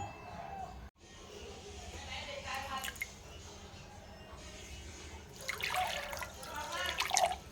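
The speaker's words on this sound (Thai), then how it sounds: "เดี๋ยวผมติดลวกปลาไหลกับน้ำเกลือก่อน" Water sloshes, trickles and drips nearby while eel is blanched in salt water, with splashing growing louder toward the end.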